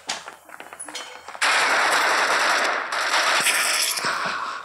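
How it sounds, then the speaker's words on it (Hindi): Rapid automatic gunfire in a video game, a few scattered shots, then a sustained loud burst of continuous fire that tapers slightly toward the end. "उधर गोलियां चल रही हैं।"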